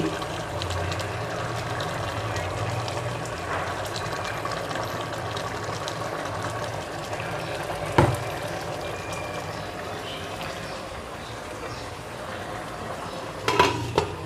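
Onions sizzle in hot ghee for hilsa khichuri, with a steady frying hiss, a few sharp clinks of a spoon against the pot, and faint talk.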